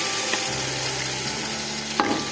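Ginger garlic paste and ground green chillies fry in a pan with a steady, close sizzling hiss that carries through the whole short stretch, with a faint stir or clink near the end.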